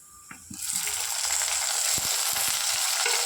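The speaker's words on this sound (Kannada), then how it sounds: "1 ಟೊಮೆಟೊ, ಸ್ವಲ್ಪ ಫ್ರೈ ಆಗಬೇಕು." A tomato drops into hot oil in a pan for Mangalorean fish curry, a light tap followed by a sudden loud sizzle that holds steady and close, with a few scattered pops.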